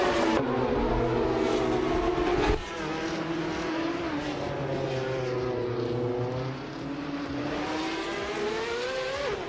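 Ferrari 355 Challenge race cars scream past on a Virginia circuit in a racing game, a steady high-revving engine whine rising and falling through gear changes, loud and close with no talk.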